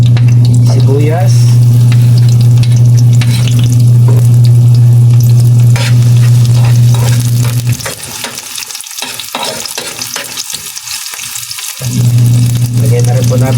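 Onions sautéing in oil in a pan for ginisang bagoong isda, a loud steady sizzle with stirring scrapes that drops away for several seconds, leaving sparse clicks, before the frying hiss returns.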